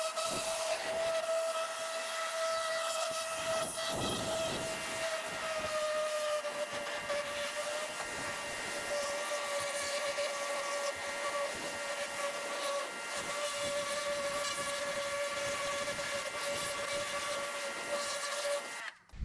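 A spray washer with an angled head blasts the linkages of an electric trials bike with a constant, loud, hissing rush and a steady whistling tone that holds for the whole stretch.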